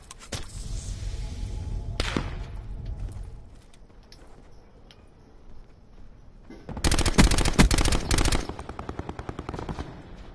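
Loud bursts of automatic gunfire in a PS4 shooter video game: a short burst early on, then a sustained, dense machine-gun volley later, followed by scattered single shots, with no talking over it.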